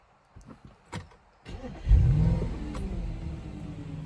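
A 2014 Audi RS5 4.2 V8 FSI Quattro coupé (B8.5) fires up with a loud exhaust bark after a few soft clicks, then settles into a deep, steady idle rumble, close and alone.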